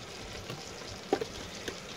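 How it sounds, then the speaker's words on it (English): Gravy mixture being stirred in a pan for hamburger steak with mushrooms and onions, giving a faint sizzling scrape with a few soft clinks of the utensil against the pan. "we'll stir that up pretty good"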